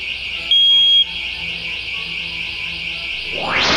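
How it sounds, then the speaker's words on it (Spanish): A smoke alarm on a PIC-based security system emits a loud, steady high-pitched electronic tone, close and continuous, with a brief louder beep near the start and a burst of hiss at the end. "se genera la alarma de humo"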